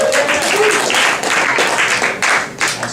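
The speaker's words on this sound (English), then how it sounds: "Round of applause." Crowd applause fills a stand-up comedy show: steady, dense clapping from the audience throughout, with a few voices mixed into the noise.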